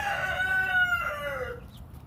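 Chickens in a backyard coop with a Wyandotte and black copper Marans among them: one clear drawn-out rooster crow rising and falling, loud and close, with no talk over it.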